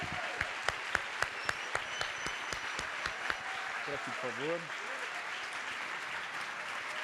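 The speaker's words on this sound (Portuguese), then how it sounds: "Eu peço salva de palmas para Marilena Chauí." A book-fair audience applauds to welcome a professor onto the stage, starting with a few sharp individual claps that swell into steady, dense applause while a voice speaks briefly over it.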